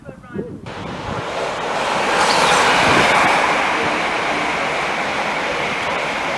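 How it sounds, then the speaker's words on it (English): A short burst of voice, then the loud rushing whoosh of a new Crossrail electric train passing nearby on the line at Southall and Hanwell stations, swelling to a peak and easing off gradually. "It's one of the new Crossrail trains, isn't it?"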